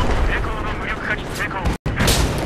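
Sniper rifle shots from an M98B in Battlefield 4 boom out loud and close, one after another, over dense game noise and a talking voice, with a sharp blast near the end after a brief dropout.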